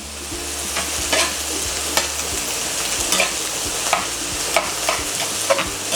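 Chopped onions sizzle in hot oil and honey in a pan while being stirred, a steady close frying hiss with small scraping ticks of the utensil throughout, no voices.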